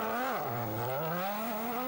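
Petrol-engined Nissan rally cars on the Dakar scream by, their engine pitch dipping sharply then climbing steadily, loud and close, like a single fast pass at full revs.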